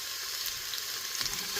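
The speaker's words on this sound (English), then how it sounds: "now we're going to put our onions in and get those cooking for a couple of minutes" Chopped onions sizzle and fry in a hot pan for yellow chicken curry, a steady close crackling hiss with faint spatters and no voices.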